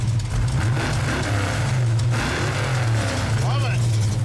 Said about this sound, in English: The car sounds awesome when it fires up.